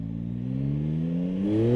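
A 2025 Yamaha MT-09 SP motorcycle accelerates gently on sand, its engine note rising steadily in pitch as it pulls through the gear, a close, smooth, continuous hum with no talking.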